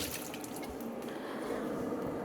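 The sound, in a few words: tomatoes being washed under running tap water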